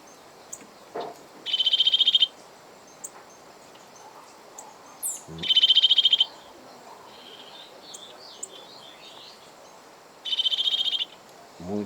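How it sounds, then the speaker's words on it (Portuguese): Three bursts of high, rapid chirping calls from small birds inside a cabin, each about a second long and spaced several seconds apart, fairly close and clear over a quiet background with a few faint knocks. "Pássaros dentro da cabana."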